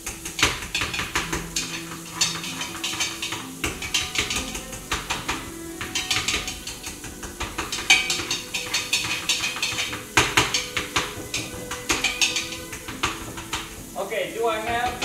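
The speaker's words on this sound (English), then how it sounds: "We gotta pound and pound them, man." Mashed potatoes being pounded in a pot, with repeated clanking, rattling strikes of metal on cookware in uneven bursts while someone talks throughout.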